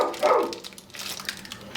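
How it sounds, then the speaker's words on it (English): A pet dog gives one short, sharp bark near the start, followed by quieter indistinct household sounds. "how much he barks at me when I'm making dinner"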